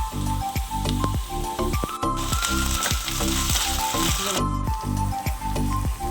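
Onions fry with curry leaves and ginger garlic paste for a cluster bean kurma, with loud, constant sizzling close by and a quick, regular rattle of stirring, and a burst of brighter hiss in the middle.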